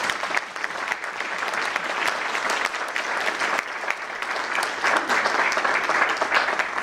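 Sustained, loud applause fills a civic State of the City gathering for Mayor Earl Leiken in Shaker Heights, the dense clapping steady throughout with no voices over it.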